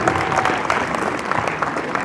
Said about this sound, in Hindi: बच्चे आपके लिए जोरदार तालियां हो जाए